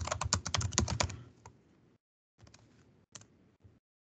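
Rapid typing on a computer keyboard, close and crisp, starts as a dense flurry of clicks, then tapers into a few scattered keystrokes separated by short silences.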